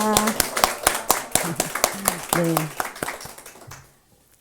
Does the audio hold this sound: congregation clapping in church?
yes